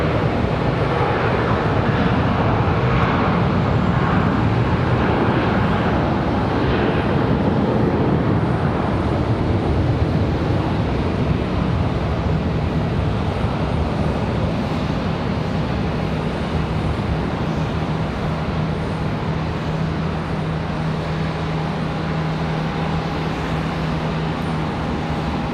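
An American Airlines Airbus A321 lands at Charlotte Douglas airport, heard as a loud, sustained broadband jet roar that stays heavy and continuous from fairly near, with no voices.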